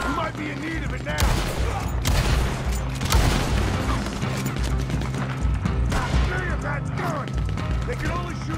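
Gunfire in the video game Red Dead Redemption 2 during a shootout near a gunsmith, with dense, continuous volleys of shots and booming impacts under a busy, loud game mix.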